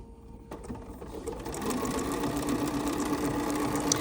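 Embroidery sewing machine stitching out a detailed 30.6 mm-wide decorative stitch, a steady close mechanical whir with a fast, even needle rhythm that holds at a constant level.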